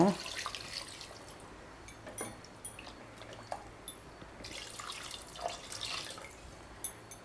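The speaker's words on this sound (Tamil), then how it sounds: "இப்போ அது முழுகிற அளவுக்கு தண்ணி சேர்த்துக்கலாம்." Water being added to mutton in a pressure cooker for Dindigul thalappakatti mutton biryani, heard as quiet intermittent drips and splashes over a faint steady background, with no talking.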